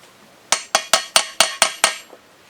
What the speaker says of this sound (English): I'm just tapping to make sure it's bottomed out in the bottom here.